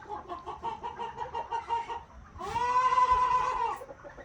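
Chickens in a backyard coop give a run of repeated clucks and calls, followed by a louder, longer drawn-out squawk near the end, close by with no talk.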